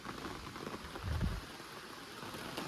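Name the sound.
heavy rain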